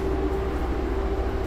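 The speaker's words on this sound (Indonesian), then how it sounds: "kereta api Madiun Jaya ini membawa 6 kereta ekonomi premium" The Madiun Jaya, an Indonesian passenger train hauling six stainless-steel premium economy cars, gives off a steady low rumble and hum that continues with no break.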